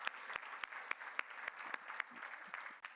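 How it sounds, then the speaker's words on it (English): Audience applause at a patient-oriented research keynote, a steady wash of many hands with a few sharp, close claps standing out, moderately loud and without talk. "give you a round of applause for that"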